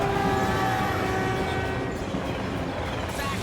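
Train rumbling past in the Cars 2 video game, a steady loud low roar with tonal horn-like lines fading in the first seconds, continuous throughout with no clear talk.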